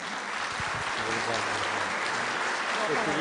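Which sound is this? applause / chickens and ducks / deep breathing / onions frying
applause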